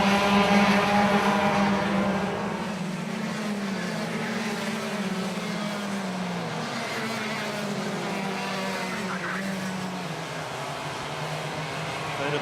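Club100 lightweight sprint karts at Red Lodge race past in a pack during a championship final, a continuous loud buzzing drone of two-stroke engines that swells at the start and then holds steady with shifting pitch as the field streams through.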